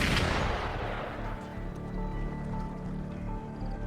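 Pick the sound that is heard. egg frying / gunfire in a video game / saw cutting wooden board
gunfire in a video game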